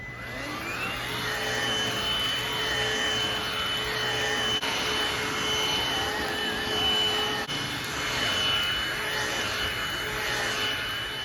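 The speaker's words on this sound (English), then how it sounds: "I am gonna vacuum" A vacuum cleaner runs steadily nearby on a couch, a constant roaring drone with a high whine, briefly shifting tone as the nozzle moves; no one speaks.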